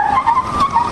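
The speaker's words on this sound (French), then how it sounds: "un accident entre une voiture blanche de marque Toyota et une moto Cirrus grise évité de justesse" A white Toyota car skids with a short, loud tire squeal in a narrow miss with a grey Cirrus motorbike in traffic, the screech wavering over engine noise for about a second.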